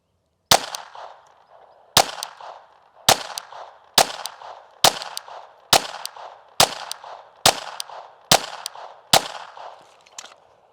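Ten handgun shots crack out at an indoor shooting range, evenly paced about one second apart, each loud and sharp with a short echoing decay off the walls, no voices in between.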